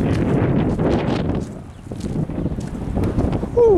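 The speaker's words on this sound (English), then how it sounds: "that's a big gust right there" Strong wind gusts ahead of a storm on a cold day, blustery rushing and microphone buffeting that rises, dips briefly, then surges again, with faint voices in the background.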